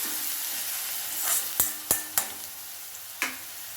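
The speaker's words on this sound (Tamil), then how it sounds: "இது வெங்காயம் வதங்கட்டும் வதங்கிடுச்சு" Onions sautéing in oil for prawn thokku, a steady close sizzle with a few distinct spatula taps against the pan.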